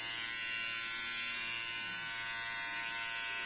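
A Philips series 3000 beard trimmer runs steadily, its high-pitched electric buzz and whine holding constant and close with no change in speed, and no speech over it.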